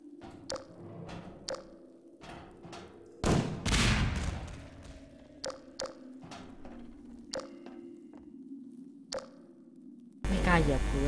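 Half-Life 2 gameplay with SMG bursts: scattered sharp gunshots and a couple of louder bursts punctuate a quiet scene, moderately close, with faint talk.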